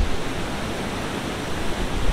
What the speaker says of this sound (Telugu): అదే అనమాట వాటర్ ఫాల్ ఫైనల్గా కనిపించింది